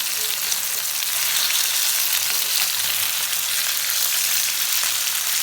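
Paarai fish frying in a pan, a steady dense sizzle that stays loud and even throughout with no voices over it.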